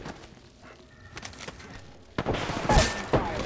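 Gunfire rings out in a match of the video game Apex Legends, a few sharp close shots and impacts arriving in the last second and a half after quieter shuffling movement sounds.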